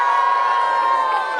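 A crowd cheers for the Wolves team at a national kit handover event at White River Country Club, a loud sustained roar of voices and shouts that holds steady and eases slightly at the end.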